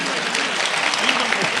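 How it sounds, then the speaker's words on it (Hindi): A crowd at an Urdu mushaira poetry recital in Amravati breaks into brief, loud applause, a continuous wash of clapping with voices murmuring beneath it. "अगर सुनना चाहते हो तालियां बजा के इजाजत दें।"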